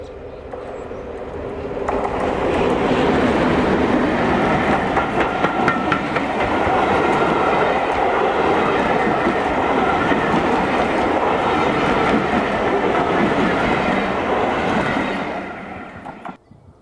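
A Class 31 diesel locomotive climbs past close by on a heritage railway, its heavy engine drone rising quickly and holding loud with rattling wheels before dropping away at the end.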